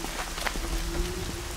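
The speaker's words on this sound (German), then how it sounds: "Ach, jetzt regnet es auch noch hier." Rain falling in the video game Horizon Zero Dawn, a steady soft hiss of drops over the ground, fairly loud and continuous with a faint low tone running underneath and no talking.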